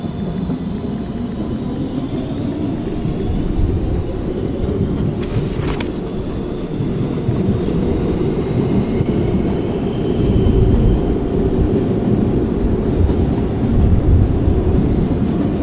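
An NYC subway 1 train, an R142A or R262 car, departs the station with a loud, steady low rumble and a continuous rattle of wheels on track, swelling slightly toward the end, with a brief hiss partway through.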